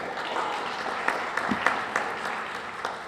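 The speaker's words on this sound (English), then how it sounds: "we really need to have a round of applause for his artwork" Audience applause at a Money Smart Week event, moderate steady clapping from a small crowd with a few sharper individual claps standing out.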